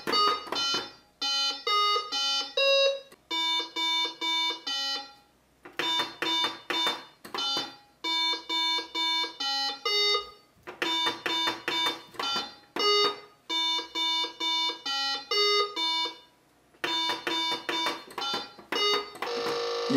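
An Arduino-built Genius electronic memory game gives off repeated electronic tone patterns, bursts of loud beeps separated by short pauses.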